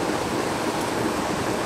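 Steady rushing roar of water pouring over a spillway, a continuous even wash of noise with no other sounds over it.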